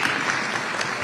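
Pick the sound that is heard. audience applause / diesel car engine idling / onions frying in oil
audience applause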